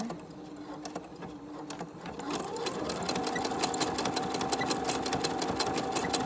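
Home sewing machine stitching a LuLaRoe Deanne garment during an alteration, starting slowly, then settling into a fast, steady, close-up mechanical hum with a regular needle clatter that runs to the end.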